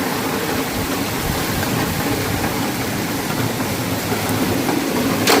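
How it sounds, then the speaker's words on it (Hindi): Heavy rain pours down steadily outdoors, a dense, loud, unbroken hiss with a few faint knocks near the end and no talk. "में बारिश हो रही है।"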